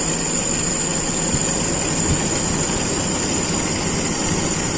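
A car engine idles while its PCV valve is tested, a loud continuous low drone with a slight drop in revs and a few faint knocks, heard alone without talking.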